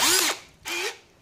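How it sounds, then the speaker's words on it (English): Two short bursts from an Aneerpower 13mm cordless brushless hammer drill biting into steel angle bar, each a loud high whine that winds down, separated by a brief pause. "So let's try drilling through steel"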